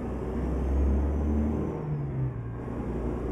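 Kenworth W900 long-nose truck engine in American Truck Simulator, hauling cattle: a steady low rumbling drone with a faint high whine, rising slightly in the middle and continuing without talk.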